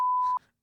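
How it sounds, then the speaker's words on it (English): A single sharp electronic censor tone, steady and loud, cuts over a spoken word for about a third of a second, then stops abruptly into near silence. "I decided to let you beep out the C word"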